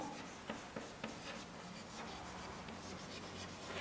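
Pen or chalk writing out a chemistry solution by hand, a faint, steady scratching with a few light taps, quiet and close throughout.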